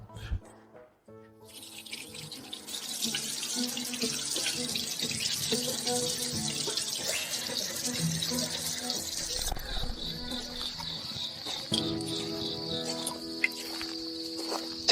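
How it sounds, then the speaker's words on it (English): Cold water runs steadily from a tap over a burn, a continuous hissing stream that lasts throughout and sits under background music. "Quick, rinse it with cold water."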